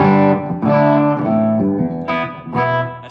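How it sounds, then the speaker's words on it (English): Electric guitar plays a few ringing chords with light, natural overdrive grit from the amp alone, no drive pedal, with delay and reverb, each strum sustaining and fading before the next. "I got some natural drive just coming from the amp"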